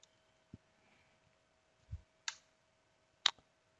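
Computer mouse clicks come as a few isolated, sharp ticks spaced across a quiet moment, close and faint, with no talking.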